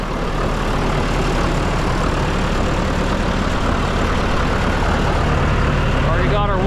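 A John Deere 450C crawler dozer idles steadily nearby, a continuous low diesel rumble that holds without change throughout before a brief faint noise near the end.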